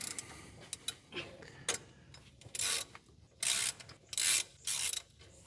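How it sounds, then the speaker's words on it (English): Short ratchet turning a bolt on a square body truck under restoration, heard up close as several separate bursts of quick metallic clicking with short pauses between them and no talk. "Where's your short ratchet?"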